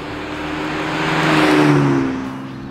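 A V6 Ford Ranger pickup with a stainless steel cat-back exhaust revs up and swells in loudness, a throaty exhaust roar peaking midway and easing off, with no voices.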